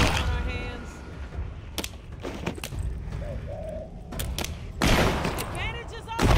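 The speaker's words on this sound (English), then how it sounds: "who the fuck is shooting me?" Scattered gunshots crack out in bursts during a firefight in the VR video game The Walking Dead: Saints & Sinners, amid bird coos, ambient noise and a talking voice.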